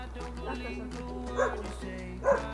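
A dog at a Romanian outdoor cooking session where tochitura is being made in a cauldron. Two short yips or barks come at a moderate distance under steady background noise and people talking.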